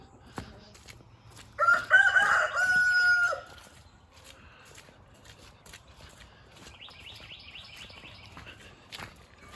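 A rooster on a farm lets out one loud, close cock-a-doodle-doo early on, followed by softer clucks and other farmyard bird calls in the background.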